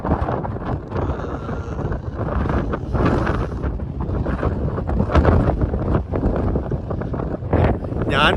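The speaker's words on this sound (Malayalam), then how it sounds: "ഞാൻ പറയുന്നത് മിക്കതും കേൾക്കണ്ടാവില്ല കാറ്റിന്റെ സൗണ്ട് കൊണ്ട്." Strong gusting wind buffets the microphone on the coast near Doolin, Ireland, with waves breaking onto the beach, a loud continuous roar filling the whole stretch.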